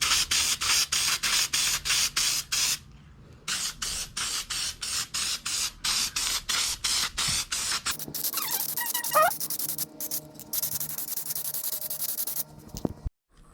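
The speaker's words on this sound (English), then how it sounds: "we're just spraying it like crazy on the part we want to cover" Repeated bursts of hissing spray adhesive from an aerosol can, short sharp blasts in quick succession, then a longer stretch of spraying with some rubbing and handling noise, applied to a Honda Civic headliner.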